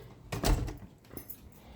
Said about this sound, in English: I'll close the door over here.